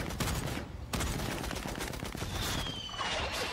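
Gunfire rattles through a scene of the animated film Batman: The Long Halloween, a dense fusillade of rapid shots with a brief pause near the start, loud and continuous with no talk.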